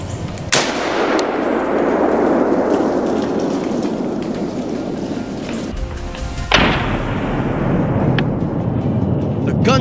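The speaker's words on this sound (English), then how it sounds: "The gunshot echoes, sending the herd scattering in panic" A hunter's rifle fires at wild boars in a forest. Two sharp, loud cracks land several seconds apart, each trailing off in a rolling echo over a steady hissing background.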